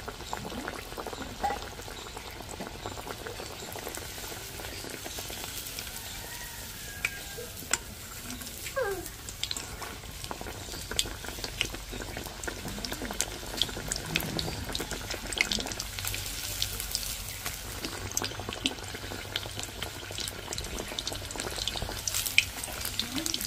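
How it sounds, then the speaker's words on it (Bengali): Chicken cutlets frying in hot oil one at a time, a continuous soft bubbling sizzle with occasional faint clinks and stirring sounds throughout. "আমি একটা করেই ভাজছি, তাহলে একটু ভাজতে সুবিধা হবে।"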